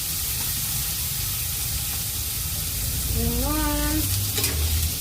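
Chopped tomatoes fry in a pan with leftover lechon for a vegetable dish, giving a steady close sizzle with stirring scrapes throughout and a short whistle-like tone near the end.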